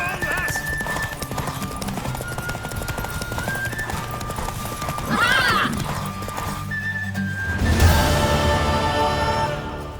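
A horse in The Witcher 3 gallops with steady clip-clop hoofbeats and gives a loud whinny near the end, heard alongside game sounds and some voices.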